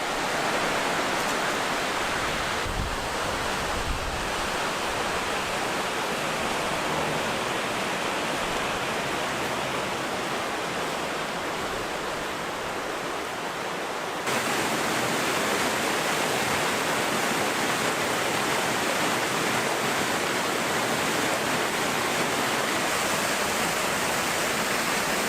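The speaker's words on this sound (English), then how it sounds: "yeah, there's a beautiful waterfall" A waterfall roars steadily and loudly throughout, a dense continuous rush of falling water with no voices.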